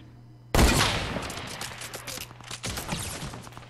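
A single sharp, loud sniper rifle shot cracks out in a Fortnite match, followed by a dense rattle of further gunfire close by.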